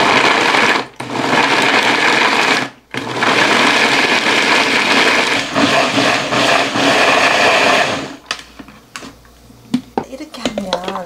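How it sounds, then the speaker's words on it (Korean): A loud blender grinds ginger with water continuously with a couple of brief pauses, then stops; afterward quieter clinks and handling noises follow. "믹서기가 돌아갈 정도만 돌릴게요."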